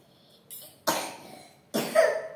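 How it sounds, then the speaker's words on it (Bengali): A child coughs in a home setting: a short faint sound, then two loud, harsh coughs spaced about a second apart, close to the mic and with no talking over them. "কাশি হয়েছে?"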